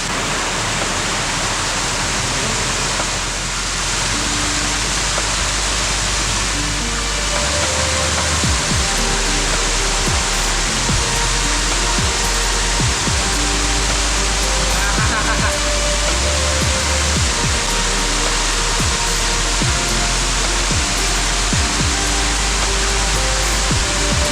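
A hidden waterfall near Ranjanpada village in Alibag pours in a dense, unbroken roar, loud and close, with a few faint voices lost beneath the rushing water.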